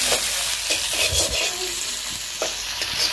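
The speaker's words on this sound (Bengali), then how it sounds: "তো যে এখানে কাঁচামরিচ পেঁয়াজ রসুন দিয়ে ভেজে নেওয়া হচ্ছে" Green chilies, onion and garlic fry in a pan with a steady crackling sizzle, broken by several scraping stirs of a spoon against the pan, close and fairly loud, with no talking.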